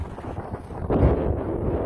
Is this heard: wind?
yes